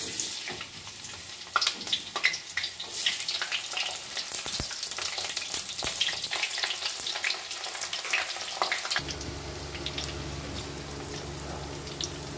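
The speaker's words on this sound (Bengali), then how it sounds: "গরম হয়ে গেছে, দিয়ে দিচ্ছি কুচানো পেঁয়াজ।" Chopped onions hit hot mustard oil in a kadai for basanti pulao, giving a loud, steady sizzle with crackling pops and occasional stirring clinks; the frying drops to a lower, calmer hiss in the last few seconds.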